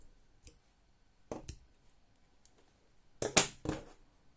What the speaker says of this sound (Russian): Все, обрезаю хвостик.